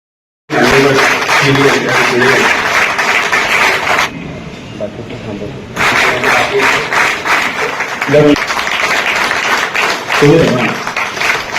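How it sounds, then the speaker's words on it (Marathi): A crowd at a protest rally at Azad Maidan claps steadily and loudly, with voices and cheering mixed in; the clapping briefly drops away in the middle before resuming strongly. "तो जोरदार टाळ्या आपल्या सर्वांसाठी"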